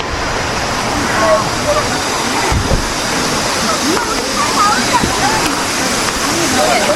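A river flows through Miryang Ice Valley (Eoreumgol) near a campsite, its steady rushing water filling the scene close by, with a voice talking over it.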